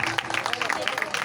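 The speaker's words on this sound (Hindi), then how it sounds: "तालियों के साथ" Congregation applause at a Hindi-language church service, a dense run of rapid hand claps at a steady rhythm, mixed with crowd voices and an amplified speaker talking over it.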